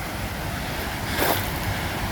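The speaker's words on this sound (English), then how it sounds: "There's the noise of falling water." Water falls along a swollen stream beside a Lake District car park, a steady broadband rush with a brief louder surge, heard close and alone.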